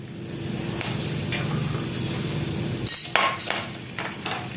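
Cinnamon pieces and cloves dropped into hot coconut oil for an egg pepper fry, a steady low sizzle that jumps into louder crackling spatters near the end, close by.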